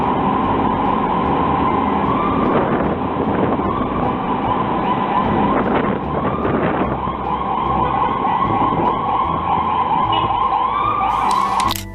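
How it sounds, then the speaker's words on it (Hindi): An ambulance siren wails in stalled traffic on a street in the USA, a loud, steady, continuous tone with a wavering pitch that holds without pause, over a dense bed of traffic rumble and engine noise. "जहां सड़कों पर आम गाड़ियों के पीछे ही एम्बुलेंस खड़ी है और कोई उसे रास्ता नहीं दे पा रहा"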